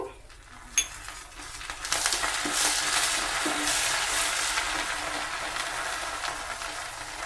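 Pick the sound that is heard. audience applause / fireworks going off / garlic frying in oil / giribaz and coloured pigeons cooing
garlic frying in oil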